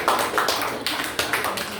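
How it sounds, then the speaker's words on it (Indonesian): A short burst of group applause for presenting students in a classroom, several rapid claps, close and fairly loud, lasting under two seconds. "Oke, tepuk tangan untuk kalian."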